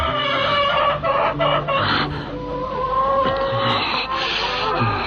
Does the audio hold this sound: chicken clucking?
yes